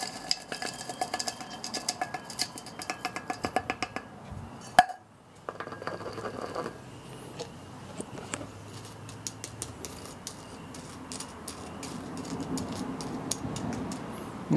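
Small glass pieces clink and rattle as they are dropped into a clay crucible on top of a compacted steel charge for making wootz steel, a run of sharp, close chinks and scrapes with a brief pause midway.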